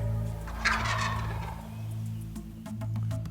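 A wild turkey tom gobbles once in a rattling burst, fairly near, followed by quiet outdoor ambience with faint clicks and a low hum.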